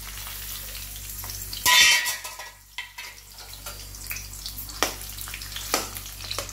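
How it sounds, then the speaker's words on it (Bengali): Onions go into hot oil in a kadai to fry until reddish for a chicken gravy, setting off a sudden loud sizzling burst that settles into a steady crackle with clattering stirring and utensil knocks. "পেঁয়াজগুলো আমি বেরেস্তা করে নেব, একটু লালচে করে ভেজে"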